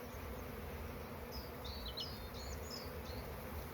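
Honeybees buzzing around an open beehive while a new hive is set up, a steady soft hum with a few faint high chirps over it. No one speaks.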